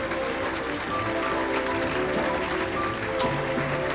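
Audience applause fills the hall at the Miss West Virginia USA 2000 pageant: a continuous, even wash of many hands clapping at moderate loudness, with no voices over it.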